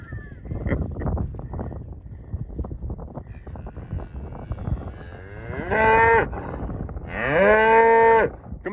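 Two long, loud cow moos rise out of steady wind noise and low rumble, the second one stronger and drawn out.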